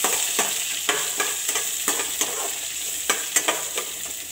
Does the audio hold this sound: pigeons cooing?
no